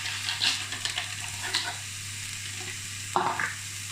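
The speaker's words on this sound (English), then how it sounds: "now I'm going to add the onions to the mince and the carrots" Mince frying in a pan as onions, carrots and peas are added, giving a constant soft sizzle with light spoon stirs and a sharper clatter near the end, set against a low steady hum; no speech.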